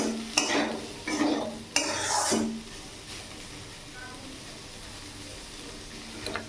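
Three bursts of scraping and stirring over sizzling chopped onion in a pan, then a quieter low sizzle as the stirring stops.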